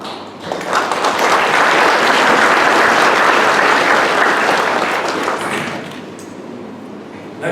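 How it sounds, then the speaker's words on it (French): An audience applauds at a centenary commemoration for Sir Satcam Boolell in Mauritius. The clapping swells quickly, holds as a full, even roar for several seconds, then dies away. "Ils ont droit à notre gratitude et à nos applaudissements."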